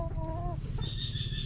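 A native gamefowl chicken at a game farm in Santa Ana, Pampanga gives short clucks and a thin, rising call close by, over a low steady rumble of background noise.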